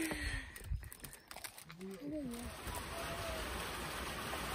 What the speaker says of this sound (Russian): Пошел дождь.